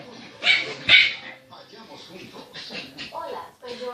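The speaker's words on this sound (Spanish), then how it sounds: "¿A quién tú le ladras?" A small puppy gives sharp yips and whimpers close by, two loud barks followed by softer whining cries, while someone talks to it in Spanish.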